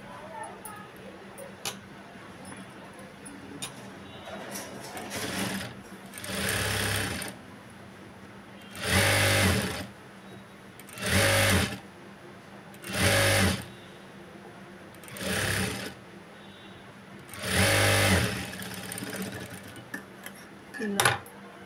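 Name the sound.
sewing machine stitching a Punjabi dress top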